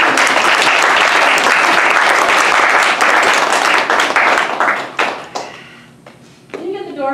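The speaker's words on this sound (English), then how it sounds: "Give them a round of applause as they come to the everything store." At an improv comedy show, a crowd breaks into loud, dense applause. It fades out after about five seconds, then performers begin talking.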